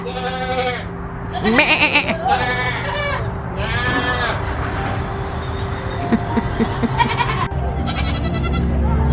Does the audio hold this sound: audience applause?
no